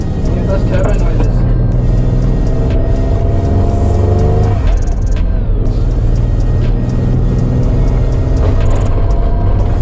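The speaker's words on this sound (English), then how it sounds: "Get those turbo noises." A Suzuki Cappuccino turbo engine revs loudly and continuously nearby, holding a steady rumbling drone with rising turbo whine, while people talk over it.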